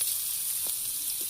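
Chopped onion sautéing in hot oil for vathal kulambu makes a steady, close sizzling hiss with faint crackles, heard alone for a moment.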